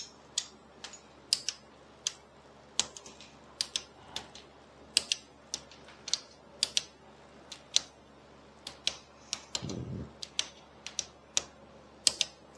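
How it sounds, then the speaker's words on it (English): Sharp, regular ratchet clicks come in quick bursts as engine bolts are torqued on a Small Block 350 engine build, close and crisp against a quiet background, with no talking. "I don't know if you can hear my ratchet clicking or not."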